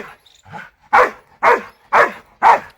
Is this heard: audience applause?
no